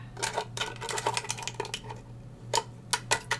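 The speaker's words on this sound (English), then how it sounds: "So I'm going to start with my scissors here, and I'm just going to open this up." Scissors snip open a dry erase cling package, giving a quick run of close, crisp clicks and crackling plastic with short pauses between the cuts.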